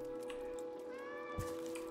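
A cat's faint meows come from the video game Stray over a steady droning hum of game music and ambience, with one soft thump partway through.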